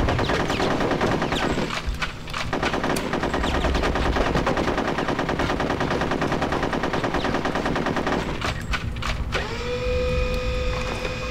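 Sustained machine-gun fire in the video game Conker's Bad Fur Day: dense, loud, rapid volleys run almost continuously throughout, with mechanical whirring and game effects mixed in and no talk.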